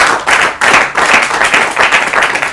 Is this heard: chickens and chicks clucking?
no